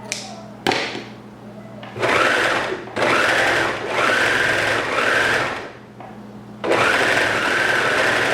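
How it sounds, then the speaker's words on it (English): An overlocker stitches elastic onto the waist of a maxi skirt in several close, loud bursts of fast mechanical whirring, with short pauses between runs. "when I had it on here, I was overlocking it"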